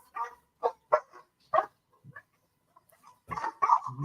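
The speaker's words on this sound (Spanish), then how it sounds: "Están ahí ladrando, están ahí birlochando mis tres gigantes ahí en el patio." Three large dogs bark in a yard: several short, sharp barks come in uneven bursts with brief pauses, fairly close and moderately loud, with no talking.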